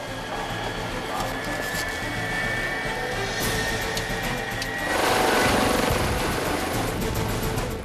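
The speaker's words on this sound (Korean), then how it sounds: "헬기가 이륙을 준비한다." A 119 fire-service rescue helicopter at Gimpo Airport prepares for takeoff, its engine whining steadily and then swelling into a louder broadband roar partway through.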